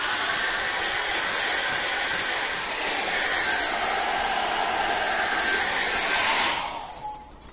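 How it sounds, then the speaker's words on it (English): A hair dryer blows steadily at close range to dry acrylic paint, a constant loud whoosh that cuts off near the end. "I'm going to get a hair dryer on and dry that up very quickly."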